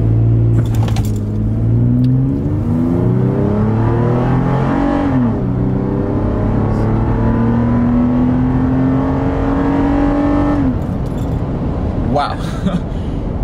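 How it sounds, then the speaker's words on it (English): Toyota 4Runner under full-throttle acceleration from a stop, engine note rising steadily in pitch through the gears with a shift around midway, loud and close from inside the cabin, followed by a brief easing off near the end. "So let's go ahead and stop here, and we can do a full throttle acceleration."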